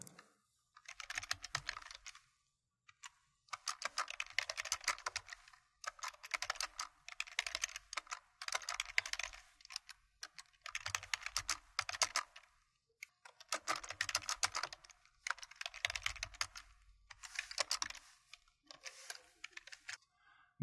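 Code being typed on a computer keyboard in quick bursts of close, crisp key clicks separated by short pauses, fairly quiet with no talking.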